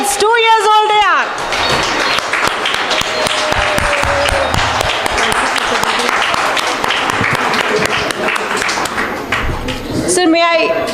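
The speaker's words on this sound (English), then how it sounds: "May I have a big round of applause, please?" A crowd applauds for a group of two-year-old children at a lab launch event, with loud, sustained clapping that runs nearly the whole time. Voices are heard briefly at the start and again at the end.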